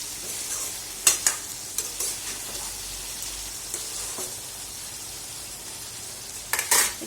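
Meat and potatoes sizzle steadily in a pan while a utensil stirs them, giving a few sharp scraping clicks early on and again near the end over the soft, constant frying hiss.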